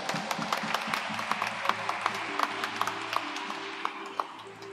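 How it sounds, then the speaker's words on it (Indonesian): Congregation applauding newlyweds at a wedding ceremony, a steady patter of many hands clapping at moderate distance, with a sustained organ or keyboard tone running underneath. "Mari kita beri tepuk tangan."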